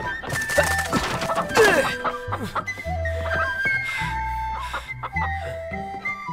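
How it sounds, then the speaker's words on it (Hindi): A rooster flaps and squawks while being chased on a mountainside, with sharp clucks, thumps and scuffles mixed among brief bursts of agitated calling. "मुझे मुर्गा पकड़ने दीजिए।"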